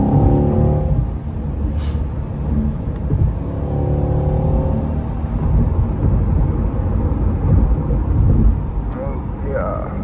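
A Corvette C8 sports car's engine accelerates and rumbles steadily during an early-morning drive through thinning traffic, heard from inside the cabin at close range, with someone talking over it.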